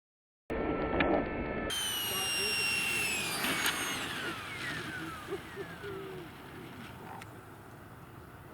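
Electric ducted-fan whine from a 3D printed RC Harrier jet model on a slow approach, a steady rushing hum with descending whistling tones as the throttle changes, heard outdoors and fading somewhat toward the end.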